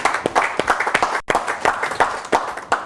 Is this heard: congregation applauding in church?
yes